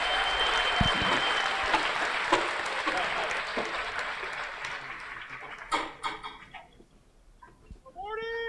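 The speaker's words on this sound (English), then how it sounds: "Please join me in a round of applause for our retirees and their families" An audience at an army basic training graduation ceremony, honoring retirees and their families, applauds in a full, sustained burst that gradually fades. Scattered noises and voices follow.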